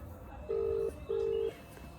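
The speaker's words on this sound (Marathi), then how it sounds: "आता रवीला फोन लावलाय" Two steady touch-tone beeps from a phone keypad as a call is dialed, evenly spaced and fairly clear over a quiet background hiss.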